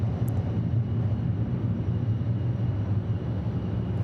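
A Delta airliner arriving at hazy Atlanta Hartsfield-Jackson airport makes a steady, heavy low-pitched engine roar heard from a distance, with no talk during it.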